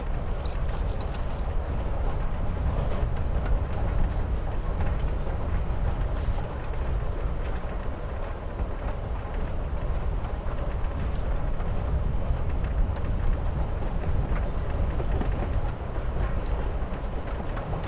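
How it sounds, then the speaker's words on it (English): Steady train-riding ambience inside a passenger car in Life is Strange: Before the Storm, a continuous low rumble with rattling and clatter that never lets up. "You're on a freaking train with Rachel freaking Amber"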